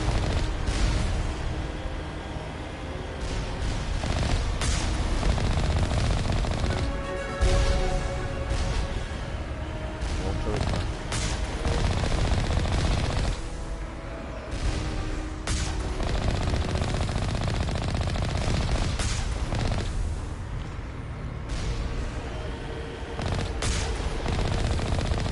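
Gunfire in Mass Effect Legendary Edition, dense rapid bursts of automatic fire with booming impacts running almost continuously, loud and close with brief lulls.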